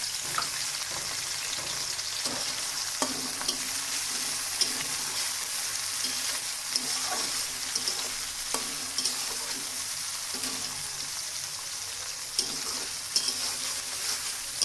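Cumin seeds for tempering sizzle steadily in hot oil in a home kitchen, a continuous hiss broken by small crackles and occasional spoon scrapes, with no talking.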